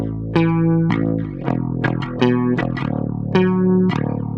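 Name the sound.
bass through Universal Audio MXR flanger, lows rolled off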